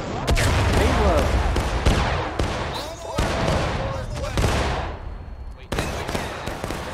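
Musket volleys in the War of Rights video game, a ragged fusillade of sharp shots and heavy booms that fire irregularly one after another, loud and close, with distant crackle and shouting players mixed in.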